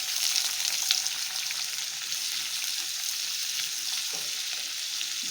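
One large finely chopped onion sizzles steadily in hot oil in a pan, a dense, even frying hiss that runs continuously without pause.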